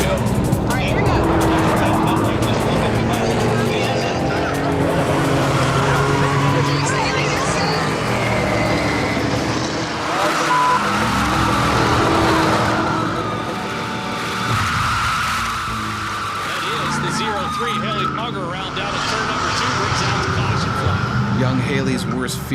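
A sponsored race car runs on a track and spins out, with engine roar and tire squeal rising and falling while voices talk over it.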